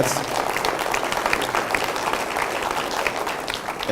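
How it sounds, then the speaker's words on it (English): Audience applause fills a school district presentation, dense steady clapping from a crowd that carries evenly from start to finish. "So you can clap for that."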